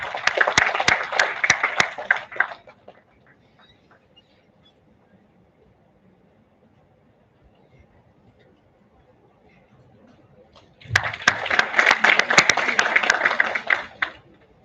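Two bursts of audience applause at an international conference sapling presentation ceremony: brisk clapping that stops after a couple of seconds, a long near-silent pause, then a second round of clapping rising and continuing.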